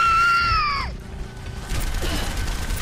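A person's loud, high-pitched squeal, strained while trying to scream quietly, held for nearly a second and then sliding down, followed by the clatter and bangs of game noise.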